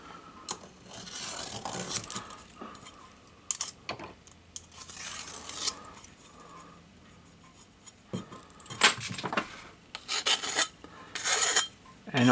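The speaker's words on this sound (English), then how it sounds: "We'll take that burr out of there." A hand file rasps a burr off the edge of a metal boiler plate in short, uneven bursts of scraping strokes, close and fairly loud, with pauses between passes.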